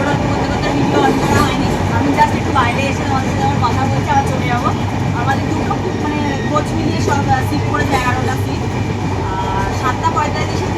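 Steady rumble of a train running, with a constant rattling drone throughout and people's voices murmuring over it.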